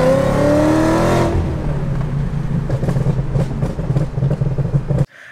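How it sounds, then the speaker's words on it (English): A Ford Mustang GT500 Super Snake with a Shelby Borla exhaust revs loudly and close, then drops into a deep, rumbling idle that cuts off at the end. "My favorite is the Shelby Borla exhaust system. This exhaust system, it looks great and it sounds even better."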